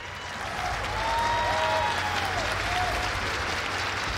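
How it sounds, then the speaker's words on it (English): Steady applause from a large esports event crowd at the Six Invitational 2019, a dense wash of clapping that swells slightly and holds without pause. "keep that applause going for our panelists here."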